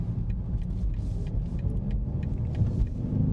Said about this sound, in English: That's about half throttle.